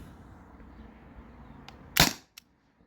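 A modified T4E TR50 launcher fires a lightweight homemade nylon slug, giving one loud sharp crack near the two-second mark with a faint click after it, against a low background hum.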